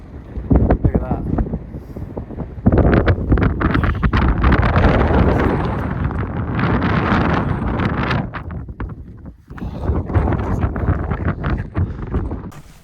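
Strong gusting wind buffets the microphone on a mountain peak in loud, roaring bursts that rise and fall, with a short lull near the end.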